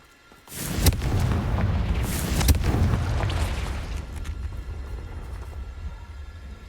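A Confringo spell blast in the Hogwarts Legacy game: a sudden heavy booming explosion followed by a rumbling, crackling roar that slowly tapers off over several seconds, close and loud, with no talk.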